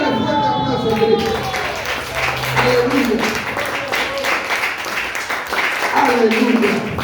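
Church congregation clapping loudly for Christ, sustained crowd applause with cheering voices and a preacher talking over it throughout.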